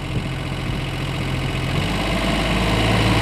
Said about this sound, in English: Go ahead and throttle it up all the way.